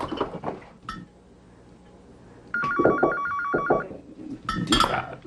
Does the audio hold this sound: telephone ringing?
yes